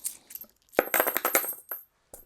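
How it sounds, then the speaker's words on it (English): Metal coins clink and jingle as they are shuffled and dropped onto a surface, a short flurry of bright, close rattling impacts followed by a single late clink. "So the coins get all mixed up."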